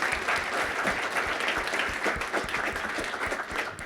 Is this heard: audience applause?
yes